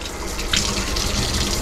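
Hot water runs steadily from the tap of an LPG gas instantaneous heater in a Volare motorhome, a close, constant splashing into a sink with no talk.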